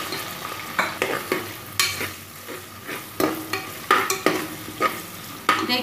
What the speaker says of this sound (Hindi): चलो अब हम हरी मिर्ची और करिया पत्त इसमें फ्राई कर लेंगे 1 मिनट के लिए।